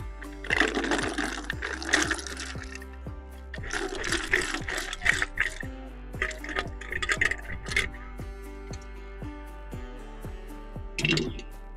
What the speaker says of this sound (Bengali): এরপর জলটাকে ছেঁকে নেব, এরপর গুগলিগুলোকে ছেঁকে নেব।